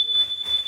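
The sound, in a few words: carbon monoxide alarm going off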